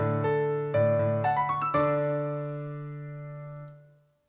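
MuseScore plays back a score written in several voices: synthetic, tone-like notes enter in a stepped sequence, build into a sustained chord and then fade out, with no one speaking.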